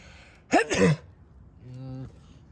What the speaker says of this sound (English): oh god, I'm about to sneeze.